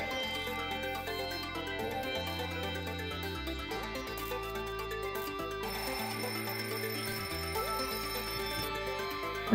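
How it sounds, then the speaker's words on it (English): A phone alarm plays a steady melodic ringtone that repeats its notes without a break for nearly ten seconds, clear and continuous with no talking over it. "it's my alarm telling me that it is coming up to ending the stream"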